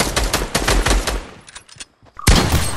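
Fortnite gunfire: rapid bursts of close, loud automatic shots, a brief lull with a few faint pops, then another heavy burst.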